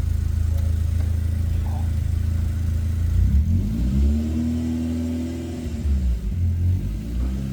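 A BMW E36 engine revs up and settles through an electronic valve exhaust, its deep exhaust rumble swelling and dropping in pitch, loud and close throughout.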